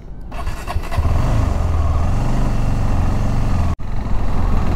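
A fully loaded, modified KTM 390 Adventure motorcycle engine catches after a short crank and settles into a loud, steady, rumbling idle close by, with a brief cut near the end and no talking.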